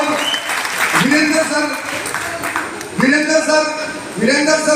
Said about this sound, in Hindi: एस्टीमेट के लिए तालियां होनी चाहिए